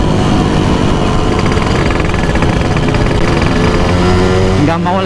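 A Yamaha RX Special 115 cc two-stroke motorcycle engine runs loud and close with a buzzing, rattly drone, then begins to rise in pitch near the end as it revs up.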